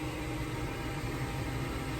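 A combine harvester empties its full grain tank while parked, not on the move, during a damp harvest: a steady, dense mechanical roar and hiss with a low rumble, constant and unbroken throughout, with no talking.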